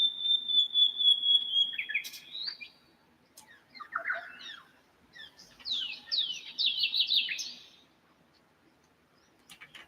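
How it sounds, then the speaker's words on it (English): A hawk calls on a foggy morning: a drawn-out whistled cry, then bursts of sharp chirping notes separated by short gaps of quiet, moderately near and clear against a still background. "No, it was just a hawk."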